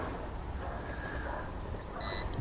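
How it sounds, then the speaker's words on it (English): A single short, high electronic beep from a JJR/C H78G drone controller during compass calibration sounds near the end, after a stretch of steady low background noise. "Okay, there's one beep."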